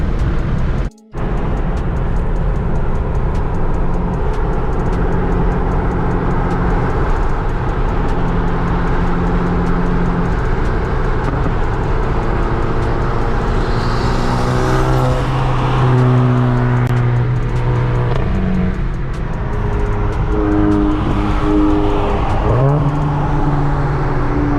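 A Chevrolet Camaro ZL1 engine and exhaust roar continuously from close by, with revs rising and falling across several gear pulls and a brief drop-out near the start.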